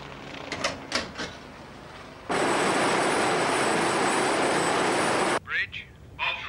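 A naval Wasp helicopter passes overhead off the coast, a loud, steady rotor-and-engine roar that cuts in abruptly, holds for about three seconds, then drops away, with brief voices before and after.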